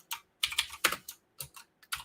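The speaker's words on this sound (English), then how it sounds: "As you can see, my typing skills are the best." Rapid bursts of keystrokes on a computer keyboard during a coding session, clustered in quick irregular runs with short pauses between, close and clear with no voices.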